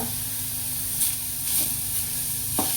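Beetroot fries in a pan with a steady, close sizzling hiss, broken now and then by brief soft stirring scrapes.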